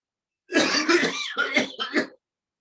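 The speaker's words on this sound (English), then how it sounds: "you breathe in deeply and cough loudly for 3 to 4 times" Loud, forceful deliberate coughing after a deep breath, part of a pranayama lung exercise, up close, several harsh bursts in quick succession, followed by quiet.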